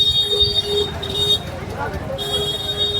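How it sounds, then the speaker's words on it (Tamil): Several auto rickshaws sound their horns in congested traffic near a train station, producing repeated nasal beeps of varying length over steady road noise, with people talking close by. "என்னடா இது ஆட்டோ இவ்வளோ பேர் நிறுத்தி வச்சு ஹார்ன் அடிச்சுட்டு இருக்கானுங்க."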